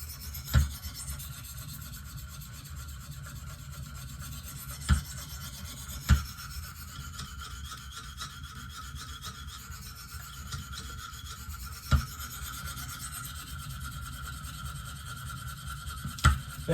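A Benchmade Steep Country knife is sharpened on a KME guided sharpener with a soft, continuous rasping rub, broken by a few sharp clicks spaced several seconds apart.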